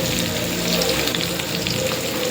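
Onions dropped into hot oil for a mango carrot rice, sizzling steadily and close up with a continuous bright crackle and no talking.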